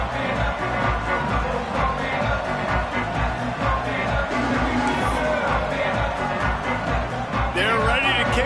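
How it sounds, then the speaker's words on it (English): A packed football stadium crowd buzzes loudly after a touchdown and extra point in an Arizona State at Michigan college game, with a dense, steady roar of many voices filling the whole stretch. "this crowd is buzzing after that last score"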